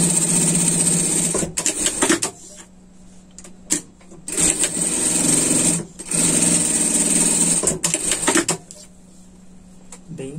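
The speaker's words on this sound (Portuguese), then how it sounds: "Mais uma costura para reforçar." A sewing machine stitches a reinforcing seam on a pet sling bag in loud, close bursts of rapid stitching separated by short pauses.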